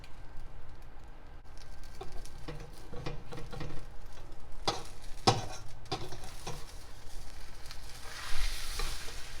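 Breakfast food frying in a pan on medium heat, a steady close sizzle with occasional spatula scrapes and taps and a brief hiss burst near the end, with no talking.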